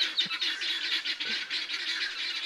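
Guinea fowl squawk and chatter in a steady, raucous stream at a rural sawmill yard, the harsh calls overlapping with no break and fairly close by.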